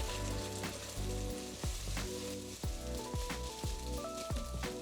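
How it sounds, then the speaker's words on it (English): Egg and rice stir-fried in a Vermicular Musui-Kamado cast-iron pot: a soft sizzle under repeated spatula scrapes and clinks, tonal ringing notes from the pot, and background music. "As soon as the eggs are half scrambled, add in rice and keep stirring to break up the rice."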